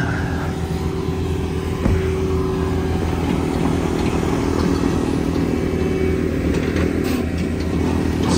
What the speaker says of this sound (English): see this blower in action